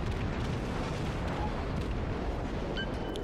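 Naval gunfire and shell hits in a World of Warships battle involving the cruiser Omaha form a loud, continuous rumble of booms and blasts, dense and unbroken, with no voices over it.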